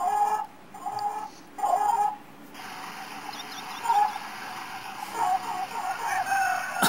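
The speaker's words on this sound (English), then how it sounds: "Chickens again." Chickens in The Sims Bustin Out video game cluck in short bursts at a moderate level, the clucks repeating over a quiet game background with a few soft chirps.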